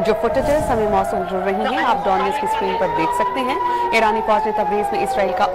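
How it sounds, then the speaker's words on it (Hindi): Wailing emergency sirens sound in an Israeli city after an Iranian missile attack, a continuous rising and falling tone heard steadily under a news presenter's voice throughout. "ईरान के नए हमले के बाद इसराइली शहरों में सायरन की आवाजें गूंज रही हैं"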